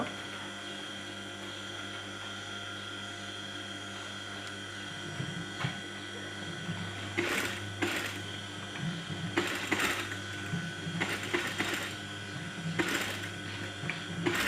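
A sewing machine stitches a kameez band collar, its motor whirring in several short bursts of rapid stitching over a steady background hum, with a quieter stretch before the bursts begin.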